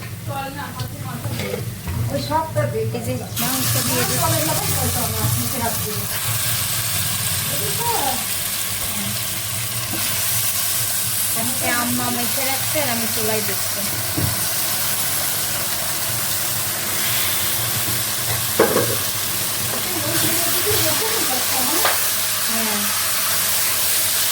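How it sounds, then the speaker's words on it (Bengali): Onions frying in oil in a wok sizzle steadily with stirring scrapes throughout, a continuous close cooking hiss with occasional clatter and faint background voices. "তেল দিয়ে পেঁয়াজ ভেজে"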